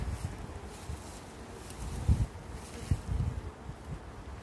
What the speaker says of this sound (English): What about all these other bees? They'll find their way into the hive.